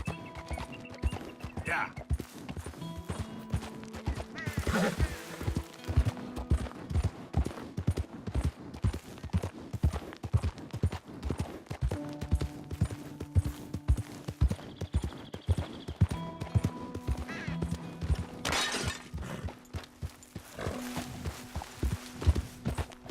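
Horse hooves clip-clop steadily in Red Dead Redemption 2, a continuous trotting rhythm close up with occasional snorts, while a voice speaks briefly over the hoofbeats.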